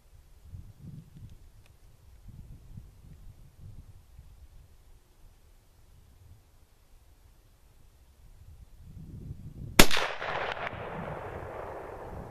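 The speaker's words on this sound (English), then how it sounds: "Shooting at high chest down there." A single loud Mauser K98 rifle shot cracks out sharply at an outdoor range, followed by a long rolling echo that fades slowly, after a stretch of low rumbling wind and handling noise.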